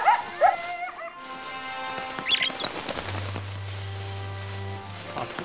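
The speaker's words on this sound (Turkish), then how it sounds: "O kargalar oraya gidince o köpek oradan kalkıp oraya havlıyor." A dog barks several times in the western game El Hijo, sharp yips near the start and again midway, over a soft ambient bed with a low sustained tone later.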